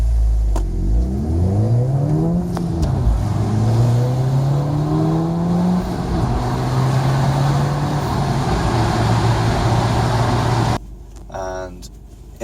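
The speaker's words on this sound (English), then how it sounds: "you get some nice turbo spooling noise and blow-off valve sounds when changing gears" A Ford Fiesta ST with a modified intake accelerating through the gears, its engine revving hard and rising, with a drop in pitch at a shift, then going quieter near the end; a voice talks over part of it.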